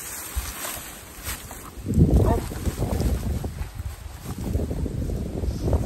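Strong wind gusts roar and buffet the microphone at an exposed, very windy vegetable garden, with a dull, rumbling surge that swells and eases over several seconds.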